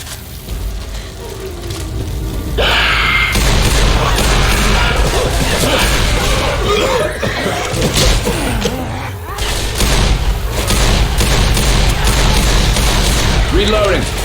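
Gunfire in the zombie shooter Left 4 Dead 2 during a rainy level, a dense, loud stretch of rapid shots and crashing noise running almost continuously, with players talking over it.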